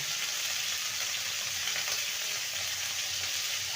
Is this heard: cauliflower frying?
yes